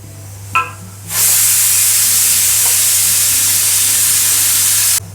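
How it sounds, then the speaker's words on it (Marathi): Grated coconut dry-roasting in a pan without oil gives a sudden, bright steady hiss after a brief click, holding evenly for about four seconds before stopping. "आता खोबऱ्याचं खीस भाजून घेऊ."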